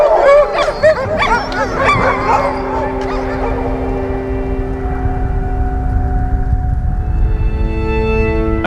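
A team of sled dogs erupts in loud, overlapping barks, yips and howls that are dense at first and then thin out into a few sustained howls.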